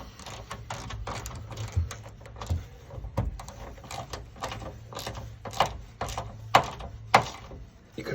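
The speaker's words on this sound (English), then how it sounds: "Another one of my favourite go-to tools, the mini ratchet." A mini ratchet tightening a gland onto steel wire armoured cable makes a close series of crisp ratcheting clicks and knocks in uneven bursts, some sharper than others, with no talking.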